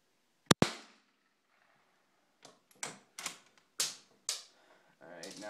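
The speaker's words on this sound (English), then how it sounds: "I'm just shooting out the window." 17 HMR rifle fired out a window: two sharp, close cracks in quick succession, followed by a scatter of lighter clicks and knocks and a rising rustle at the end.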